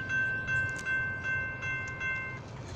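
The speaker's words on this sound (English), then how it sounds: "And train has cleared the crossing." A Union Pacific freight train rolls past a crossing on the BNSF Seattle subdivision main track, a steady rhythmic rumble of wagons with a faint high tone from the crossing bell or wheels, no voices.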